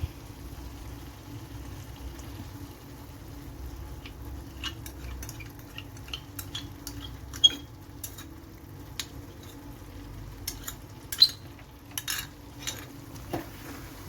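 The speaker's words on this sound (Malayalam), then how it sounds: "ഇപ്പം നമ്മൾ കാഷ്യൂ ഒക്കെ ചേർത്ത് നന്നായിട്ട് ഇളക്കി മിക്സാക്കി" Mutton roast curry with cashew paste being stirred in a pan over a low simmering sizzle, with scattered scrapes and clinks of a utensil against the pan; no one speaks.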